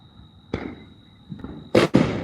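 Fourth of July fireworks burst outdoors: one sharp bang, a softer pop, then two loud crackling blasts close together near the end, against a faint background with a steady high tone.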